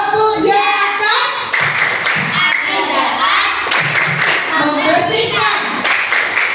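A group of young schoolchildren chanting rhythmically while clapping their hands in unison during a classroom lesson, voices loud and close with claps punctuating the chant.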